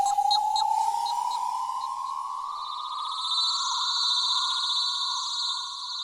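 An atmospheric synth patch called Parasites from a Synth Design expansion card rises in a slow upward sweep, with bright shimmering overtones settling into a sustained airy tone, alone with no voices.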